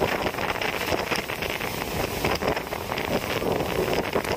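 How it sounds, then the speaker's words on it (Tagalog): Strong typhoon wind roars in a steady, loud, broadband rush, buffeting the microphone with constant gusts and no pauses. "Yung hangin."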